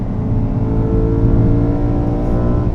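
A BMW E92 M3 with a six-speed manual revs hard to redline and holds at high pitch, a loud, steady mechanical roar climbing toward the top of its range with no pause.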